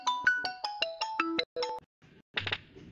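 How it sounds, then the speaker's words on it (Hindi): A mobile phone ringtone plays a bright, stepped electronic melody of clear synthetic notes, loud and close, ending in a short burst. "लगता है मेरा फोन आया।"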